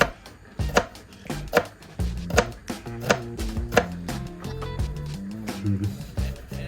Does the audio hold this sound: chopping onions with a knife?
yes